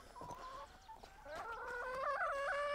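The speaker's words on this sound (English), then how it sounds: "You can see here, that's our chickens." Several chickens in a deep-litter pen cluck and murmur nearby, one rising into a drawn-out, wavering call toward the end.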